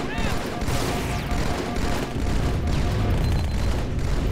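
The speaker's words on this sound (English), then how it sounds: "I'm shooting that guy in the head and your grenade hit him" Heavy gunfire and explosive booms from a Halo 2 firefight, with loud continuous rumbling shots and blasts layered together, close and chaotic, partly under a voice.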